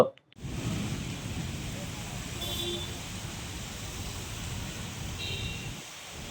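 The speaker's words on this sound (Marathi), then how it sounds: "दुपारनंतर वादळी वाऱ्यासह धुवाधार पाऊस बरसला" Steady broadband roar of heavy pre-monsoon rain with stormy wind, continuous and fairly loud, with a low rumble underneath and brief dips at start and end.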